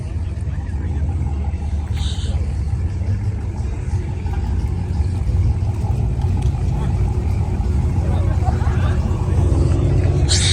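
Exotic cars at a car meet, including a Hellcat and a Mustang, rumble with deep, loud engine drones throughout, and people talk nearby over the noise.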